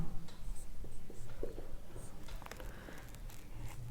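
Pen scratching on paper during a seventh-grade geometry lesson, soft intermittent strokes in short bursts over a low room hum, fairly close and quiet, with no voices.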